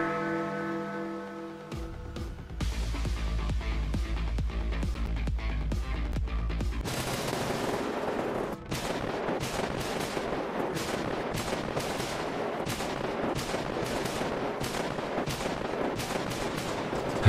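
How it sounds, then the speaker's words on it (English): A Roblox blaster character fires a combo attack in Super Toilet Brawl: dense, rapid bursts of gunfire-like blasts over a low rumble, loud and continuous, ending in a sustained crackling barrage. "Now let's try the blaster's combo."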